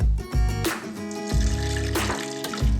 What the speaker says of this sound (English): We're going to add our liquid, which is water in this case.